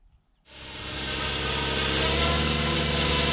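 An electric RC helicopter on a 12S LiPo pack spools up for a speed run, rising after a brief quiet start into a loud, steady high-pitched motor and rotor whine.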